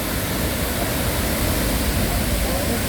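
Arenal waterfall near La Fortuna, Costa Rica, roaring as a steady, dense wash of falling water, loud and constant throughout with no breaks.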